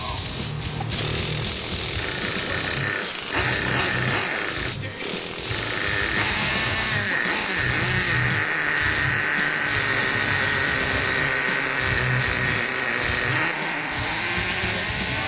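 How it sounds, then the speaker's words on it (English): A Traxxas Revo nitro RC truck engine runs at a high-pitched buzzing whine, close and loud, holding steady with brief revs and dips over about fifteen seconds. "And once it gets to the engine, usually it's pretty easily starting up."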